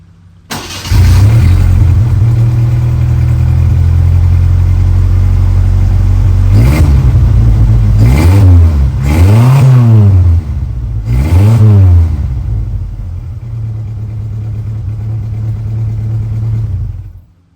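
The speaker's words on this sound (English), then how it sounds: "Let me fire it up and let you guys hear the exhaust on it." A 1989 Ford Mustang LX notchback V8 fires up into a deep, loud idle, then three quick throttle blips burble up and down through the exhaust before settling back to a rumbling idle.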